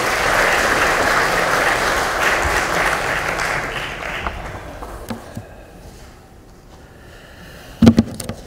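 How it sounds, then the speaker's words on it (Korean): A crowd at a political party lawmakers' workshop gives loud, sustained applause as a candidate is welcomed. The clapping gradually dies away, leaving a few scattered claps and a sharp thump near the end. "큰 박수로 맞아주시기 바랍니다."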